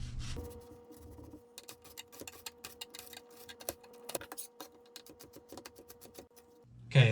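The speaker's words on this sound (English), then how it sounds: "we're gonna dice this onion" Half an onion is diced with a knife on a cutting board for stuffed shells, a quick run of sharp, irregular chopping taps close by, with faint kitchen noise before and after.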